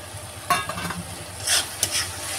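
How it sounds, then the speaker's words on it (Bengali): Fried potatoes being stirred into a mustard paste masala in a pan while cooking a mandeli fish curry, with a few scraping stirs and soft knocks over a low, quiet sizzle, no talking. "আলুগুলো দিয়ে আর 2-4 মিনিটের মতন আমি নাড়িয়ে নেব"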